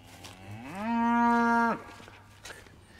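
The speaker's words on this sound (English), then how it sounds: "Do your cattle whinge like that when they," A single cow lets out a rising, drawn-out moo, loud and fairly close, waiting to be moved onto fresh grass past an electric fence, with faint background noise before and after.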